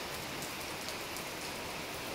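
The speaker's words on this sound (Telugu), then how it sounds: "చూస్తున్నారు కదా గైస్, వాన ఎంత" Constant summer downpour patters and hisses evenly throughout, loud and close, with no talking.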